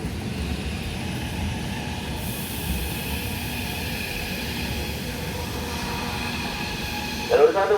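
A KAI commuter train runs in to track 1 at Juanda station with a steady, loud rumble, and a chime and announcement rise at the very end.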